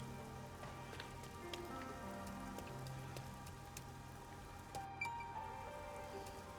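Steady rain pattering on surfaces in the video game Rain Code, a soft even hiss of drops with scattered louder splashes and no voices.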